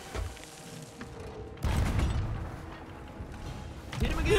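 Ship cannons fire during a naval fight in the video game Sea of Thieves, with a heavy boom kicking in partway through and rumbling on, amid game noise and excited voices.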